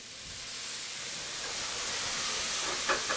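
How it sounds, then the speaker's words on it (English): White wine poured into a hot pan with shallots and minced garlic, giving a steady hissing sizzle that holds level throughout, with a brief burst of stronger spitting near the end. "And then we deglaze the pan with a little bit of white wine."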